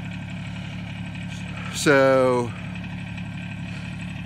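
Steady low diesel hum from a Kubota lawn tractor fitted with a small bucket and backhoe, idling at a constant level throughout while a voice briefly speaks over it.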